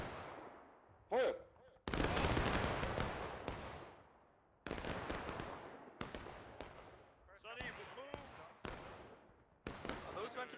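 Musket volleys fired on command in the War of Rights video game, at the Sunken Lane during the Battle of Antietam: a series of loud, sharp crashing reports with echoing decays, some massed and some ragged, plus a brief voice.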